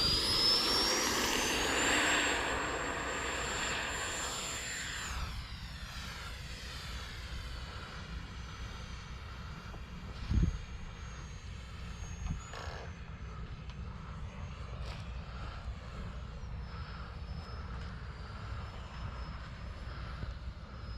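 An FMS Rafale 64mm EDF radio-controlled jet flies outdoors on a calm day. Its high ducted-fan whine sweeps past loudly at first, then fades to a steady, more distant hum as it circles.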